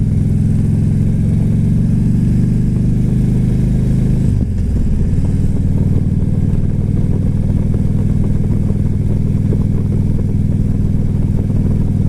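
A Harley-Davidson Road King motorcycle rumbles steadily while being ridden, its loud, constant engine drone close to the microphone with a brief shift in tone partway through and wind noise layered over it.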